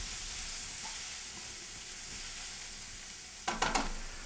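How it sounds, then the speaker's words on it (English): Garlic sautés in a hot pan with a steady close sizzle and hiss throughout, and a few short scraping clatters of stirring near the end. "Make sure it doesn't stick and the garlic doesn't burn. You want to saute it around."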